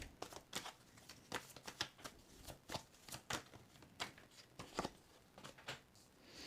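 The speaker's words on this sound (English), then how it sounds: "Oh, I just bent that card. Overzealous with the shuffling." Tarot cards are shuffled in a quiet series of soft, rapid riffles and flicks, irregular bursts repeating close by.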